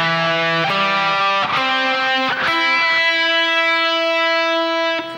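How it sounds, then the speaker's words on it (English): A distorted electric guitar plays a phrase from a song, a short run of sustained single notes, each picked note ringing into the next, loud and alone. "And the next phrase sounds like this."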